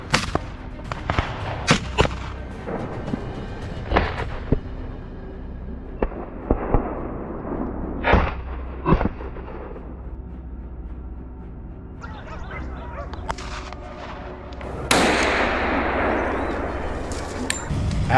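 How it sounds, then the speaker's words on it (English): Rifle shots during a wild boar hunt outdoors, a series of sharp, loud cracks spaced irregularly over a steady background hiss, with a longer burst of rushing noise near the end. "I raised my rifle, took aim, and fired"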